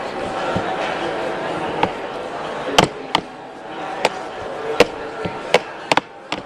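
Kalamata olives being chopped with a knife on a board at a cooking demonstration, sharp irregular knocks spaced across the clip over a constant background murmur of room noise.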